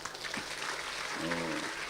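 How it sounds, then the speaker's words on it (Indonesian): An audience at an Islamic religious lecture claps briefly and fairly quietly, with a short tonal voice-like sound rising through the middle of the clapping. "Tepuk tangan."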